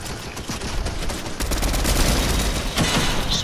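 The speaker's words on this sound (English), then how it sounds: "They're shooting over here at me." Rapid overlapping Fortnite gunfire, Chapter 3 Season 1, crackles in dense bursts throughout, growing heavier after the first second with deep low thumps under sharp cracks.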